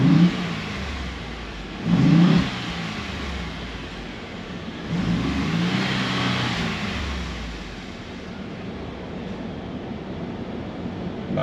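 A 2018 Ford Expedition with a 3.5L V6 EcoBoost engine revs in two sharp bursts from idle, each rising and falling back to a smooth, steady idle hum, recorded fairly close with no talking.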